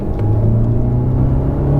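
A loud, close race car engine roar with a steady rising drone, accelerating hard along a circuit toward a chicane.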